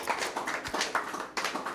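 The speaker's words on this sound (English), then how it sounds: "Let's give a round of applause for that brilliant response" Scattered clapping from an audience at an art exhibition, a few uneven hands tapping out a brief, fairly quiet round of applause in a room.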